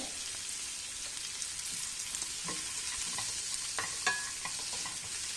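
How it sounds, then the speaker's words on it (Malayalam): Ingredients for mango rice sautéed over a medium flame, producing a gentle, even sizzle with scattered spatula taps and scrapes, one sharper knock near the end. "അപ്പോൾ അതിനായിട്ട് നമുക്കിതൊന്ന് വഴറ്റി കൊടുക്കാം"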